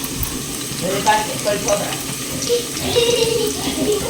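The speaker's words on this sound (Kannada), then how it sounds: "ಈ ಎಣ್ಣೆ ಸಾಸಿವೆ ಹಾಕಿದ್ದೀನಿ, ಕರಿಬೇವಿನ ಸೊಪ್ಪು, ಇವಾಗ ಬೆಳ್ಳುಳ್ಳಿ ಹಾಕ್ಕೊಳ್ಳೋಣ" Garlic frying in hot oil with mustard seeds and curry leaves, a close crackling sizzle with bursts of spitting and a few clinks, steady throughout with a busy household in the background.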